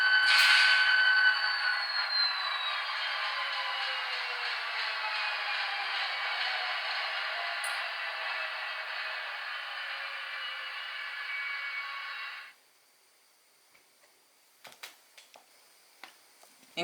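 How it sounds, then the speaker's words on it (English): An Atlas HO scale GP40-2CU model locomotive in NECR livery runs its shutdown sequence: the diesel drone winds down gradually and cuts off, followed by near silence with a few faint clicks. "And we'll do the shutdown sequence."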